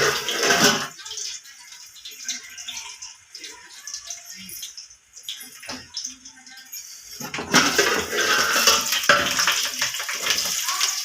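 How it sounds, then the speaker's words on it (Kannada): Sliced onions sizzle and crackle in hot oil for a chicken masala, a loud, close hiss at the start and again at the end around a quieter stretch with faint clinks. "ಈರುಳ್ಳಿ ಚಟಪಟ ಅಂತ ಇದೆ"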